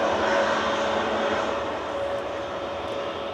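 An EasyJet airliner taxis away at Manchester Airport, a steady engine whine and rumble that slowly fades as it moves off.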